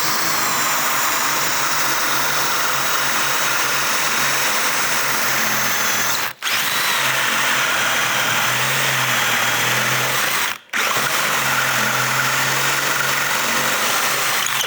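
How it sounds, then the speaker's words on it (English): A power drill turning a Star-M Japanese bit bores angled holes in three long, loud bursts, each separated by a brief stop. "You can drill at angles."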